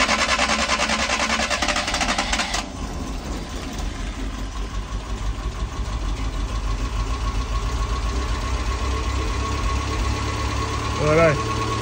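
A Mazda E1600 Bongo ute engine running on full choke, a steady loud, rough idle with a vibrating drone, a brief surge near the end.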